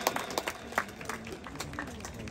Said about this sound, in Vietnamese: toàn thể đạo tràng cho một tràng pháo tay để chào đón quý vị biểu diễn nghệ thuật ngày hôm nay